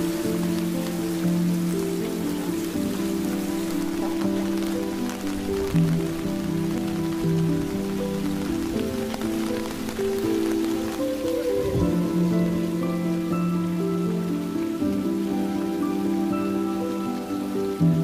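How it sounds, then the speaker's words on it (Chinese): Steady rain falls throughout in a period drama scene, a dense continuous patter that stays loud and even, with a low musical drone running underneath and no talking. "下雨了。"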